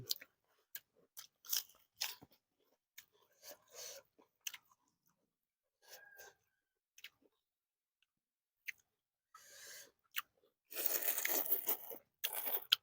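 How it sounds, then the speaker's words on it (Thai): Close, crisp crunching of papaya salad with pork sausage, Ubon style, comes in short irregular bursts of chewing separated by quiet pauses, ending in a longer, louder crunch. "ฟังแต่เสียงกรอบกรอบ"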